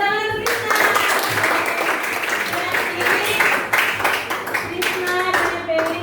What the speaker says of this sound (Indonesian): Oke, tepuk tangan untuk Krisna.